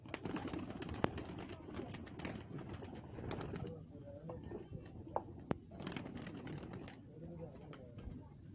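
Pigeons kept by a handler and fed on grain, cooing softly with occasional wing flutters and pecking clicks throughout, under someone talking nearby.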